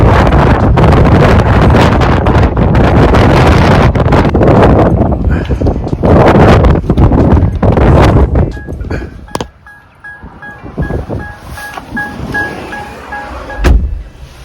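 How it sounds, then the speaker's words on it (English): Strong wind buffets the microphone in loud, continuous roaring gusts near a parked car, easing toward the end where faint tones and a brief thump come through, with a voice speaking intermittently. "The wind is so strong"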